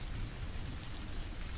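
Steady rain pours on surfaces with a dense, even hiss and a low rumbling undertone, constant and immersive throughout, with no voices.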